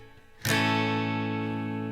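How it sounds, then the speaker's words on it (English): A single acoustic guitar downstroke sounds close and clear, then rings out with sustained strings that slowly fade, with no talk over it. "We're then going to touch the strings of the guitar to stop it from ringing out, and then we're going to strike it one more time."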